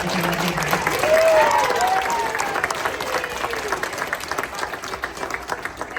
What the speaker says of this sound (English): So if we can just do a round of applause and a huge thank you to them